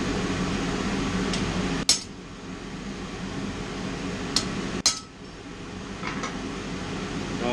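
A hammer strikes a centre punch on a steel bracket twice, two sharp metallic clinks about three seconds apart over a low background hum, with a fainter tap in between.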